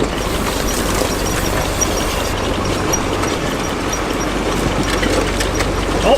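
A 1929 Dodge engine cranking under throttle while towed, giving off a few puffs within a loud, continuous rumbling churn.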